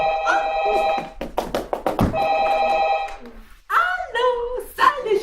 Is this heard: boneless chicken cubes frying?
no